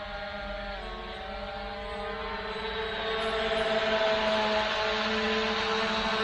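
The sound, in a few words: SG906 Pro drone flying to waypoint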